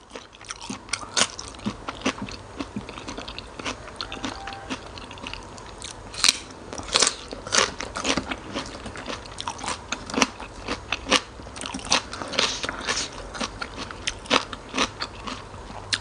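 Raw shrimp with a crisp, sweet texture being bitten and chewed, with spicy seafood dipping sauce: dense, continuous close-up crunching with sharp crackly bites all the way through, no talking.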